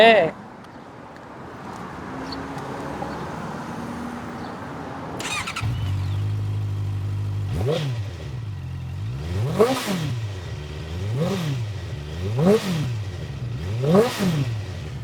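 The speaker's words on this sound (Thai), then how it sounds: "ฟังเสียงท่อพาหน่อย ฟังเสียงท่อ" Motorcycle idling after a start, then revved in five or six rising-and-falling pulls, the exhaust note swelling and dropping in an even rhythm, close and fairly loud, with a short voice over the engine.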